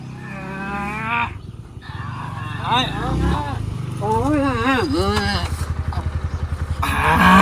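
A motorbike idles nearby in a rhythmic, throbbing putter that grows clearer toward the end, mostly under loud, animated talking from several people.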